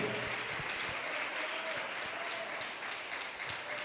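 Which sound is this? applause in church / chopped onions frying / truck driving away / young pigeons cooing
applause in church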